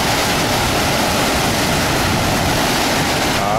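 Floodwater from a heavy rainstorm in Vila Prudente, São Paulo, in March 2013 rushes against the wall of a sports education centre at a street corner. The loud, unbroken roar fills the whole stretch.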